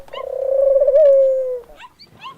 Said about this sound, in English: Then he sent out a dove.